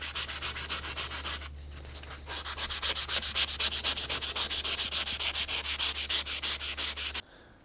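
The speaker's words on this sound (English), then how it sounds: "So now is when I'll hit it with my 220 grit." A rain-rusted metal vise is sanded with 220 grit sandpaper in fast, regular back-and-forth strokes, loud and close, with a brief pause before the rhythmic rasping resumes and then stops.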